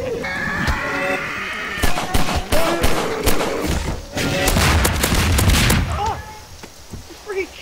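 Rapid bursts of gunfire from a zombie survival map in the video game Garry's Mod, with sharp shots clustered through the middle, some booming impacts, and game sounds and voices in the background.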